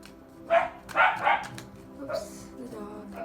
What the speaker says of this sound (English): Oops, the dog.